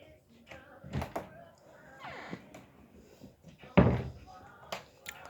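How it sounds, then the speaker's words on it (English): A house door is opened to let a dog in, giving a few dull thumps and one sharper knock of the latch or frame, close by and at moderate volume, with brief faint voice sounds between them. "And I'm going to open the door up for my dog."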